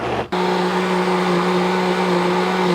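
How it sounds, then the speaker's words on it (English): A blender runs on hot liquid for a mac and cheese sauce, with a towel draped over the top. It kicks on abruptly and holds a loud, steady, close motor whir to the end. "we got our hot liquid in the blender"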